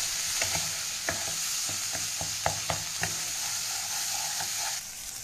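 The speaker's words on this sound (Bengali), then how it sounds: "তো এবার সব উপকরণ দিয়ে খুব ভালো করে মশলাটাকে আমি কষিয়ে নেব।" A spice paste for tangra fish curry stirred and fried in a pan over a high flame, giving a continuous close sizzle broken by repeated sharp spatula scrapes and knocks, with no voices.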